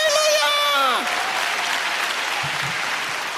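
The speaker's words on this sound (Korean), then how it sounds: "박수라도 쳐줘요." A church congregation at a Korean prayer meeting breaks into steady applause that fills the room, with a brief sung or sustained vocal tone fading out at the start.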